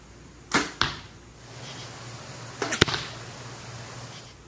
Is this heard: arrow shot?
yes